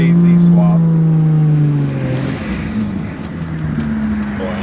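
Twin-turbo Toyota Cresta with a JZ engine running, a loud, close rumbling drone whose pitch drops as the revs settle into a steady idle, with faint voices over it.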